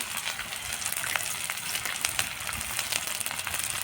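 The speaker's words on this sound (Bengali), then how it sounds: "আগে পেঁয়াজ আর রসুনগুলো ভালো করে ভাজে নেব" Chopped onions and garlic frying in a pan with oil, a bright continuous sizzle with scattered crackles and pops, close and steady throughout.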